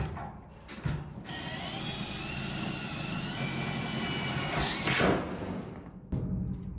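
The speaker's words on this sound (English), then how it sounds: "Now this time I'm not having to drill through wood. It's just through the metal" A power drill drives a self-tapping screw through the steel wall of a 40-foot shipping container, a loud, sustained whining grind lasting several seconds before stopping, followed by a brief clatter.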